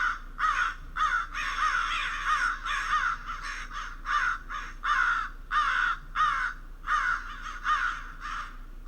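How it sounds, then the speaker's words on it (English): A California crow caws repeatedly, a steady run of harsh, clear calls in quick rhythmic succession, close and alone. "Here is a crow from California."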